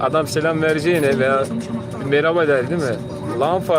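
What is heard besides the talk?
No everyday noises stand out.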